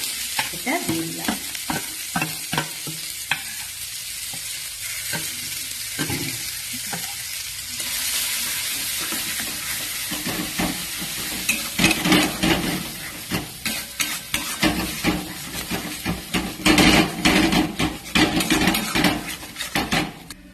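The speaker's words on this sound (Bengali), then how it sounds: "এবারে আমি এই বেটে রাখা কড়াইশুঁটি আর গাজরের যে পেস্টটা সেটা দিয়ে দিলাম।" A pan of ground green pea and carrot paste, added after asafoetida and cumin for a kachori filling, fries with a steady sizzle while a spoon stirs and scrapes against the metal. Scraping grows louder and busier toward the end, with no talking.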